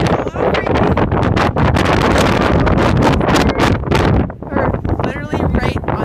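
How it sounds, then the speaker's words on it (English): Strong gusting wind on Irish sea cliffs buffets the microphone in loud, continuous roaring blasts, with a person talking underneath. "It's very, very windy."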